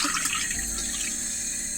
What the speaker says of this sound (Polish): Wstawiłam sobie wodę na herbatę